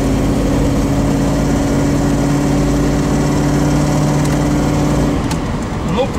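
Toyota 1UZ-FE V8 engine fitted in a GAZ Sobol 4x4 runs with a steady, loud droning hum for about five seconds, then the tone drops away as the engine note fades.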